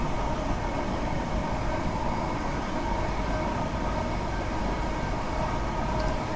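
A Class 395 high-speed electric train in Train Sim World 2 runs and brakes while slowing into Chatham, giving a steady, loud rolling rumble with a broad rail hiss throughout and no voices.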